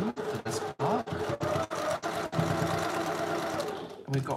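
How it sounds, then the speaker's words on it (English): A sewing machine stitches a quarter-inch seam joining pieces of a summer quilt block, starting with short stop-start bursts and then settling into a steady, close motor whir and needle chatter. "I then sew that down together"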